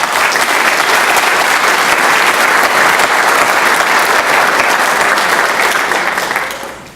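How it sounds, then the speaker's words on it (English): Audience at a city police department awards ceremony clapping together, a loud, sustained burst of applause that fades out at the end. "Let's give everyone a round of applause."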